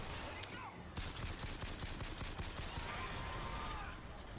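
Rapid gunfire in the shooter Bioshock Infinite, a dense run of sharp repeated shots over busy game noise, fairly quiet overall.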